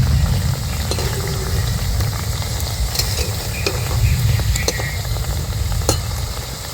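Homemade biscuits frying in oil, a loud, constant bubbling sizzle with a heavy low rumble beneath and scattered crackles and spatters close by.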